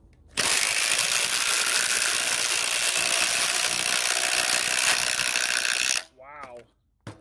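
A cordless impact driver drives a 6-inch timber lock screw in one loud, continuous hammering burst of about six seconds that stops abruptly, followed by a short spoken remark.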